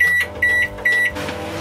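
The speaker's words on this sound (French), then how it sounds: "On va remettre ça au micro-ondes pendant pareil, 1 minute 30." A microwave oven reheating a dish hums steadily, broken by three short high electronic beeps in even succession before the hum carries on alone at moderate volume.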